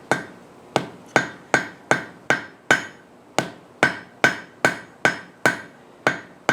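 A hammer strikes hot heavier steel for a forge weld on a potato masher, about a dozen sharp metallic blows in a steady rhythm with short ringing decays, close and clear with no talk.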